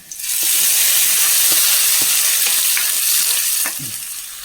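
Fried onions added to a simmering dried shrimp and cucumber curry set off a loud, steady sizzle and hiss that fades slightly toward the end, with faint stirring clicks underneath.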